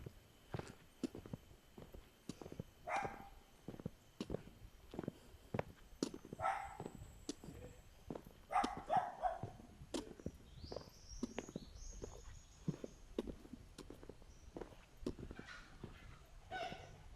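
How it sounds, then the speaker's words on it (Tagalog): Unleashed dogs in a barangay in Davao del Sur bark in repeated sharp bursts, quiet and somewhat distant, with footsteps scattered between the barks. "Ang tatapang ng mga aso nila, walang tali."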